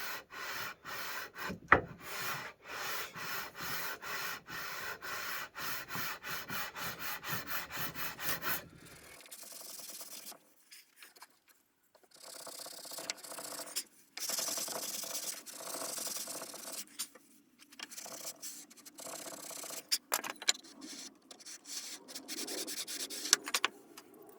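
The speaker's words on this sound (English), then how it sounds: "I think I'll just have to sand my way down there carefully." Hand sanding of wood on a small workpiece, heard close up as quick rhythmic rasping strokes, dense and fast at first, then slower scattered rubbing bursts with short pauses between them.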